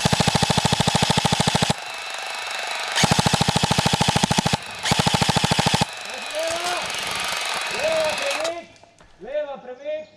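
Airsoft guns fire rapid full-auto bursts at an outdoor Slovenian airsoft game, loud and close, in several strings separated by short pauses, followed by chirpy electronic sounds and shouted voices.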